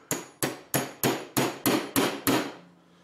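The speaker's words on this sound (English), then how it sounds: "and then slowly hammer it." A hammer strikes the shaft of an NTM Propdrive brushless motor held in a rubber-padded vise: seven sharp, evenly spaced metallic blows, close and loud, with no talking.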